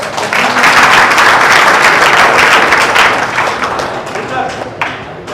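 A large seminar crowd bursts into loud, dense applause, a thick wash of many hands clapping at once that holds strong and then eases off slightly toward the end, with a voice mixed in.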